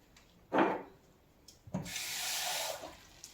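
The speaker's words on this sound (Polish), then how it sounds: "zaraz dodam trochę jeszcze wody." Water runs from a kitchen tap for spelt dough, a short bump followed by a steady hissing stream of a couple of seconds, faint and close.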